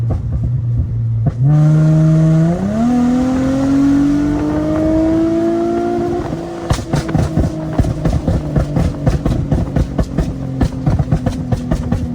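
An Infiniti G35 with test pipes and a Y-pipe revs up and holds high, the engine note climbing steadily, then drops off into loud, rapid exhaust pops and crackles.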